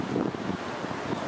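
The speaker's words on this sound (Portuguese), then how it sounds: "Ó o vento, ó." Wind gusts outdoors roar across the microphone beside a 1986 Volkswagen Fusca, a loud, steady rushing buffet with no voices.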